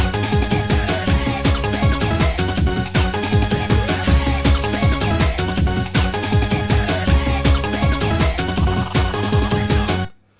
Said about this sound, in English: So I found this little bit of scratching.